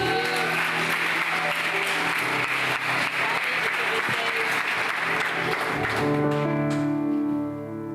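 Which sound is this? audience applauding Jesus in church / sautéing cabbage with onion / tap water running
audience applauding Jesus in church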